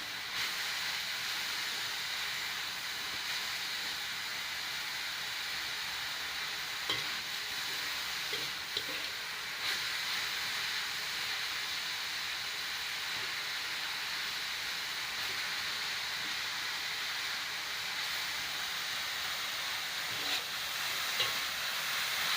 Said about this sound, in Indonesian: sesekali kita aduk agar tidak gosong.